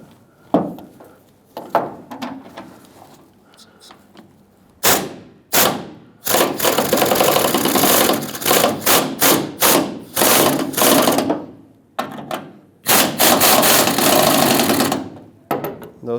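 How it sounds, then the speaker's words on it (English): A tailgate hinge bolt on a 2008-2010 Ford F-250 Super Duty is tightened with a tool that gives loud, rapid mechanical rattling bursts, several sustained runs with brief breaks after a few quieter knocks. "So I'm going to tighten up this top one first."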